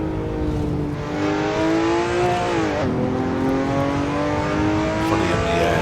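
A race car in the Assetto Corsa racing game, heard from an external view on a twisty rocky track, drones steadily and loudly throughout, its engine note shifting pitch with a brief dip mid-run as it lifts and accelerates again.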